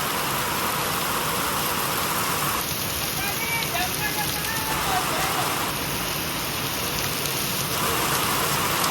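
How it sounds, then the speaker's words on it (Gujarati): Heavy rain pours steadily in Jamnagar, a dense continuous hiss that stays loud and close throughout, with faint engine rumble underneath and a couple of brief high tones. "ફૂલ વરસાદ હે"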